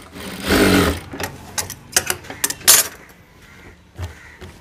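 Sewing machine running a short burst along a pant seam, followed by a series of sharp mechanical clicks and taps from handling the machine, close and fairly quiet overall.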